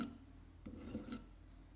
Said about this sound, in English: Sharpen with force at a constant speed for about 2 to 3 minutes.